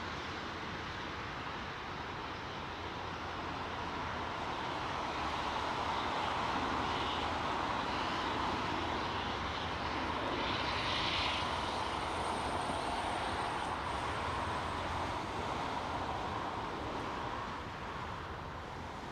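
An Airbus A380 airliner passes at Heathrow Airport in fog, a broad steady engine roar that swells slightly and then holds, heard from a distance without speech.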